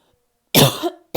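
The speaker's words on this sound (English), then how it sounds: "I don't know why I coughed" A woman gives one loud, close cough, then a second cough begins right at the end after a brief pause.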